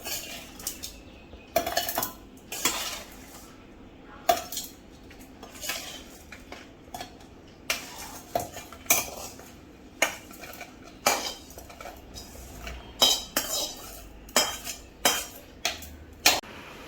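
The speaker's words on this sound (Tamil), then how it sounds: "நம்ம இப்போ எல்லாத்தையும் மிக்சி ஜாருக்கு ட்ரான்ஸ்ஃபர் பண்ணிக்கலாம்" Spoons clatter and scrape against steel vessels as ingredients for a coarse coconut and raw mango chutney are tipped into a mixer jar, a run of sharp metallic knocks and clinks repeating at close range with no talk.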